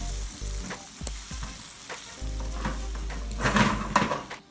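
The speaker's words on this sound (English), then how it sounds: "Now I'm going to add my scallops back and give this a little toss." Scallops sizzle steadily in a hot frying pan as they are tossed and stirred, with louder scraping bursts toward the end; close and continuous, with no talking.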